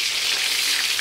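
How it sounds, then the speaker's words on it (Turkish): Food fries steadily in a pan in a village kitchen, a dense, loud, continuous hiss and sizzle with no voices. "Böyle kızartıyor arkadaşlar."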